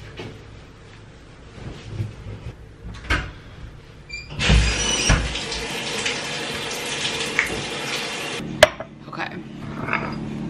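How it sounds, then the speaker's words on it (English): Shower water running in a home bathroom, a steady loud hiss of spray lasting about four seconds after some handling clatter, then cutting off, with faint household sounds around it. "I'm gonna hop in the shower."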